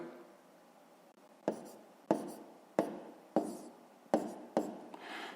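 A pen writes numbers on paper while working a column multiplication, making a steady series of crisp, close strokes about every half second with a soft scratchy texture and no talking.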